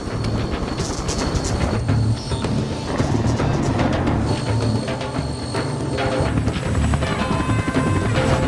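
A military helicopter roars loudly and continuously, its rotor thumping and engine droning without pause in a dense, close wash of noise.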